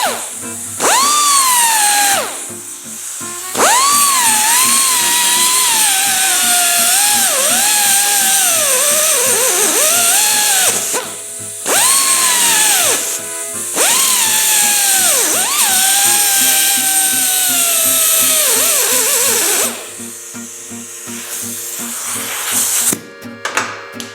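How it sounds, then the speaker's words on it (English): A whizzy wheel cuts a groove into metal to prepare it for welding: a loud, piercing high-pitched whine that rises and falls as the cut bites, broken by a few short pauses. "So I'm going to go ahead with the Whizzy wheel"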